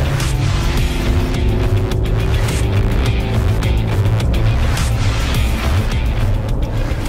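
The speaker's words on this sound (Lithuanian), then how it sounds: "Kai stovi ant laisvų variklis atrodo tylesnis, kai važiuoji, tai šiaip girdisi" VW Touareg engine heard from inside the cabin while driving, a loud, steady low drone with road and tyre rumble and a faint rising tonal whine, no voices.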